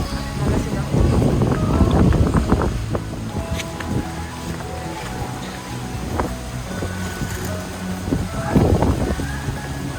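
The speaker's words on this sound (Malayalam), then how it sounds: "നല്ല കാറ്റ്, നല്ല സുഖം." Strong wind rushes across the microphone at a beach in the evening, a steady breezy roar with gusts and faint surf-like wash, with people talking intermittently.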